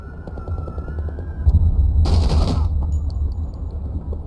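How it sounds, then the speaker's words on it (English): A flashbang detonating in the tactical shooter Door Kickers 2: a low rumbling bed, then a sharp bright burst about halfway through that lasts under a second, followed by a faint ringing tail and scattered small clicks. "we'll let this bang go off for a second before we send him"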